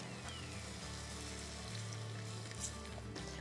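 Egg frying in a pan with softened tomatoes, a steady close hiss and crackle of sizzling oil throughout, with no talk over it.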